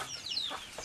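Soft chicken clucks and short squawks come through faintly, a few brief calls over a quiet outdoor background.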